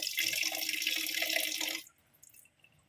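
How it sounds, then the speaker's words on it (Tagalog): Water from a kitchen tap runs steadily into a cooking pot for chicken, a bright splashing rush that cuts off abruptly, leaving faint drips and quiet room noise. "Lagyan natin ng tubig."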